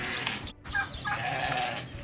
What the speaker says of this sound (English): A two-day baby goat here, and it's just adorable.